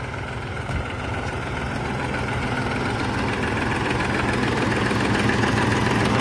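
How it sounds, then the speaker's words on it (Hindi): Balwan 400 tractor engine idling at about 1800 RPM with a tiller attached, a continuous close chugging rumble with a rough knocking texture that holds steady and grows slightly louder, no talk. "आवाज देखो भाई कितनी कह रही है बलवान 400 की"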